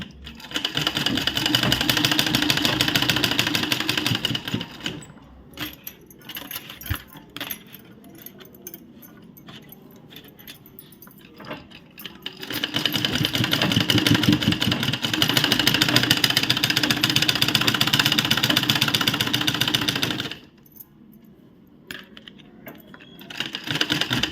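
A sewing machine stitches a baby's bunny-ear cap in two long, rapid whirring runs separated by a quieter pause with small clicks and handling sounds.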